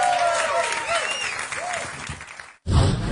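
Audience applause at a live comedy podcast taping at a festival rises under a host's voice, fades as he keeps talking, then cuts off before a short burst of crowd noise.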